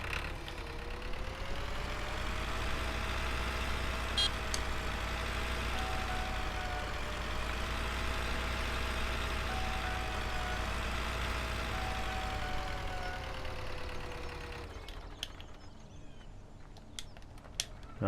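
A vintage tractor engine with a knock in Farming Simulator 17, from a classic farming mod pack, idles in a steady, even drone with a faint whine, then cuts off abruptly near the end, leaving quiet with a few small clicks.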